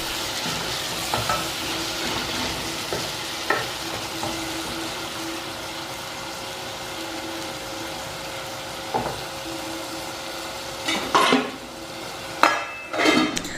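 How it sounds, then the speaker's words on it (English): Omena with chili simmering under a lid in a pot, a steady bubbling sizzle with scattered clinks and knocks of pots and utensils, louder clatters near the end. "so don't forget to put in your chili, and then cover. Okay, cover and let it simmer."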